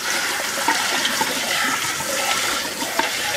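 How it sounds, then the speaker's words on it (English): Tap water runs steadily over a 5-speed juicer base as pulp is rinsed off, a close, continuous splashing rush with faint clinks and no voices. "You just rinse it."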